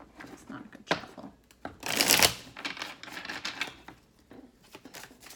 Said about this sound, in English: It's not a good shuffle.